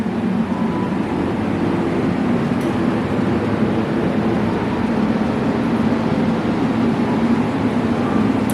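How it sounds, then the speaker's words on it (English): A 2022 Harley-Davidson Softail Street Bob 114 with an S&S slip-on exhaust rumbles steadily at idle, a deep, even, continuous engine drone with no talking over it. "And it's got the S&S slip-on exhaust."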